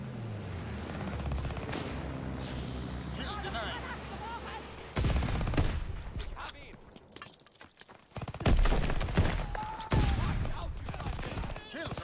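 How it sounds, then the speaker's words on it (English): Video game gunfire rattles in loud volleys from behind, with bursts breaking out in waves over several seconds amid other battle noise. "Somebody shooting from the behind."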